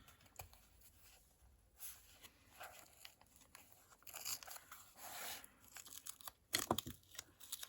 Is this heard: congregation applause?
no